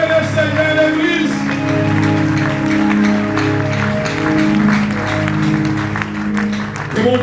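A church congregation at a Sunday service claps in praise to the Lord, sustained loud applause blending with steady musical accompaniment and some voices.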